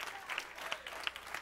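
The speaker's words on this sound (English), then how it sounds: "Give the Lord a mighty hand clap." A church congregation claps during a sermon, a brief burst of many hands clapping with a few sharper individual claps standing out, fairly faint and heard from a distance.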